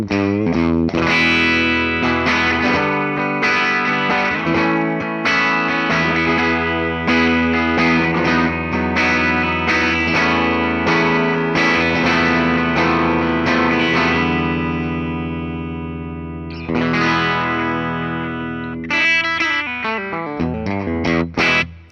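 A Gibson Les Paul 60s Standard electric guitar played through its bridge pickup with heavy distortion rings out in sustained, crunchy chords and riffs, loud and alone, ending with a short choppy phrase.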